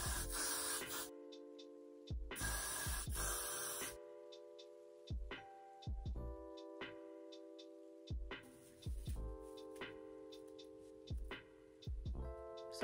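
Hair spray hisses from an aerosol can onto a lace front wig in two loud, sustained bursts, with quiet tonal music running underneath and clicking between the sprays.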